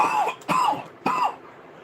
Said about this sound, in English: It's a very dry, raspy cough